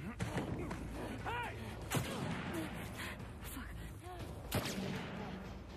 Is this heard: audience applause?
no